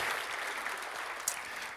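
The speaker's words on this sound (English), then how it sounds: "I'm not sure that this is actually worth any applause." A conference audience claps in a short, dense burst of applause that stays steady for under two seconds.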